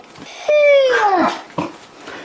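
A dog lets out a drawn-out, high whimper that bends downward, followed by a short softer whine, close and clear.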